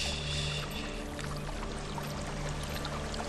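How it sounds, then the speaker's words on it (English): Waterfall in the video game Hellblade: Senua's Sacrifice, a steady, dense rush of pouring water that fills the whole stretch without a break, moderately loud and with no voices. "There's a waterfall."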